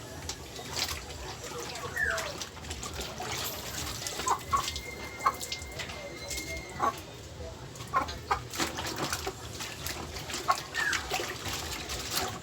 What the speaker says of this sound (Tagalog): Kaya paliguan na natin yan bago sila mangitlog.